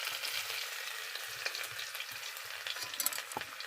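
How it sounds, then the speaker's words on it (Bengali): Onions fry in oil for a pabda fish curry, a soft, steady close sizzle with light crackles and faint stirring taps, no talk. "এখন আমি পেঁয়াজটা ভেজে নিচ্ছি।"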